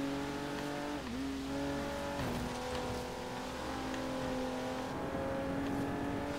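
Supercharged V6 SUV driving in the racing game Forza Horizon 3, its engine droning and revving steadily with pitch dips at gear shifts, alone and fairly prominent throughout.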